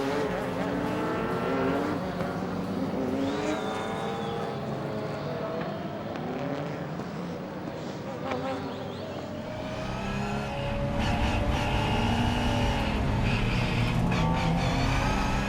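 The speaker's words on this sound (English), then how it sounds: "Start the race in Supersport 1 on board with Drivers' Champion Costa Canaroglu in 6th place" Onboard a Supersport 1 car starting sixth in an E2P Supercar Challenge race at Assen, engines roar loudly and continuously as the field launches, swelling into harder acceleration in the later seconds.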